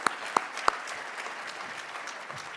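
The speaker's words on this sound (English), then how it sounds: "Give yourself some applause." Luncheon audience at a business hall of fame event applauding themselves, a few sharp nearby claps at the start over a soft, diffuse background of room noise and scattered clapping.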